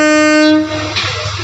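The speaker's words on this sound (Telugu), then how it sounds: "ప్రజెంట్ చూడండి కరీంనగర్ కాచిగూడ ట్రైన్" Karimnagar–Kacheguda passenger train at Karimnagar railway station, its horn blaring loud and sustained for about half a second before cutting off, leaving the rumble of the passing carriages.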